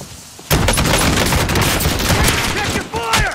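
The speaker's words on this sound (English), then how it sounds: "Going with my shotgun." A shotgun firing in a video game, a sudden loud blast followed by dense, continuous gunfire and chaotic battle noise with voices mixed in.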